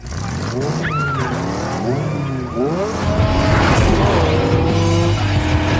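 Race cars in a street-race film scene scream off the line with rising engine whines and tire squeal, building to a loud roar. A narrator talks over the action.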